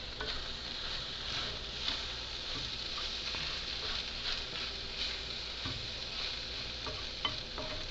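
Tortillas warming in a hot pan for vegan al pastor street tacos give off a steady, soft sizzle and crackle throughout, close and even in level, with faint scraping movements and no talking.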